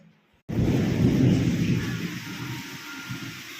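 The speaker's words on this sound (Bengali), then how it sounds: "মারাত্মক পরিমাণে বৃষ্টি হচ্ছে আর সেই পরিমাণে বাজ পড়ছে" Heavy thunder rumbles and rolls through a downpour of heavy rain, starting abruptly and staying loud and dense, with a steady wash of rain underneath throughout.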